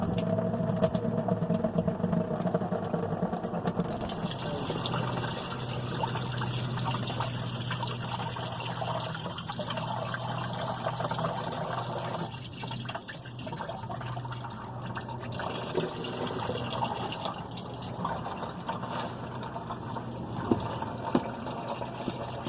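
Coolant drains from a Jeep Next Gen V8 engine during a water pump replacement, a faint continuous trickle and splash into a catch pan that runs steadily throughout, with no talk.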